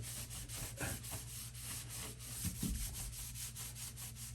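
A toilet being removed gets a firm scrub, a quiet close rubbing and scraping that repeats in a steady back-and-forth rhythm with a few louder knocks.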